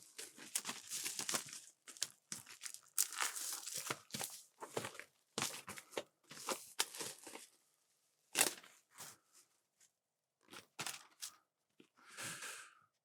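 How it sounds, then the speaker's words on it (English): Cellophane wrapping is torn and crinkled off a vinyl record soundtrack set in a series of close, crisp rips and crackles with short pauses between. "So let's unbox it. Well, unwrap it."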